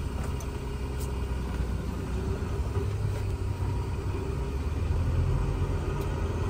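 A class A truck rolls slowly at about five miles an hour during a service brake check, its engine producing a steady low rumble with faint road noise throughout.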